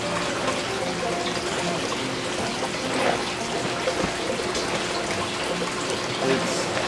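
Water pours steadily out of an external aquaponics siphon, a continuous close splashing and trickling flow with no pauses.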